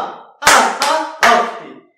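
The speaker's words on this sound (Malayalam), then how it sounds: "എന്നാ സാറിന് ക്ലാപ്പ് തരൂ" Children in a class clap for their teacher: three sharp, close hand claps in quick succession, then silence.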